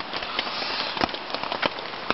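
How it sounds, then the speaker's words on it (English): Heavy rain drums on a tent at a solo wild camp, a dense steady hiss broken by sharper, louder drop hits at irregular moments. "Still pouring down with rain, so it's not going to stop tonight, I don't think."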